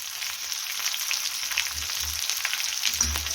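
Stuffed green chillies with lemon and salt fry in a pan, making a steady bright sizzle close by with a few low stirring thumps and no talking.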